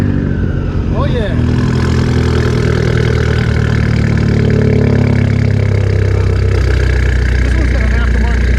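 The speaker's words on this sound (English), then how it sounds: "This one's got an aftermarket exhaust, all right. It sounds even more insane than the factory one." Fiat 500 Abarth with an aftermarket exhaust idling loudly and steadily at a car show and drift event, a deep close rumble with a brief blip partway through, with voices talking over it.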